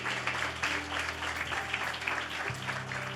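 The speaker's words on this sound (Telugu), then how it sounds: "बजाओ ताली यीशु के नाम से." A church congregation claps together in worship, the sound steady and moderately loud throughout with a low musical hum beneath it.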